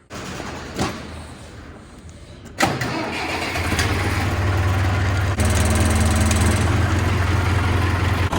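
An old Gleaner F3 combine engine cranks with a couple of sharp clunks, catches and settles into a loud, steady low-pitched idle that rises slightly and holds to the end, recorded up close outdoors.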